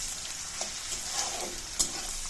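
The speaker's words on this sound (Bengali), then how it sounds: "এখন আমি পেঁয়াজটাকে একটু লাল লাল করে ভেজে নেব" Chopped onion frying in hot oil with whole spices, a dense continuous sizzle close by with soft stirring scrapes and a brief louder clatter near the end.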